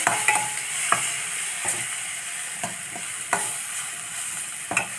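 Cut tomato added to a frying pan and stirred, with a bright sizzle under regular scraping strokes of a spoon against the pan, roughly one stroke per second, and no voices.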